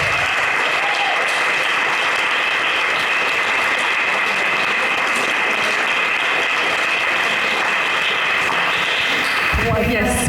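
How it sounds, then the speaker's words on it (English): Loud, sustained applause from a festival audience closing a session at the Ischia Global Festival, a thick wash of many hands clapping continuously for about ten seconds before cutting off. "let's give ourselves an applause and close this session"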